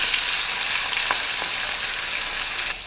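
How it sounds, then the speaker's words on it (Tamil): Prawns and tubers fry in hot oil, a steady, close, hissing sizzle that holds constant throughout, with a couple of faint utensil taps and no voices. "இதையும் வறுத்துடலாம். கூடவே அந்த கிழங்கு."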